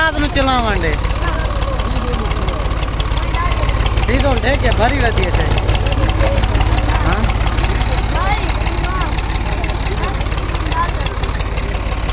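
A tractor engine idles loud and close with a steady, chugging low rumble that runs unbroken throughout, while voices talk over it.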